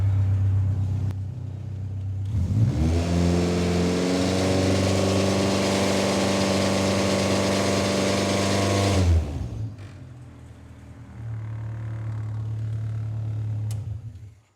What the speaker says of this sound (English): So let's rev it up.